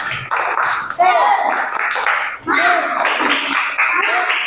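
A school class of children performs a clapping chant, voices calling out together between sharp bursts of group hand claps in a quick, rhythmic pattern.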